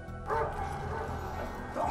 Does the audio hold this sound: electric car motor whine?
no